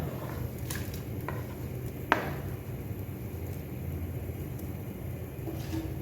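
A steady crackling sizzle of onions frying in a pan for South Indian paruppu kulambu, with occasional scrapes and a sharp clink of a utensil stirring against metal.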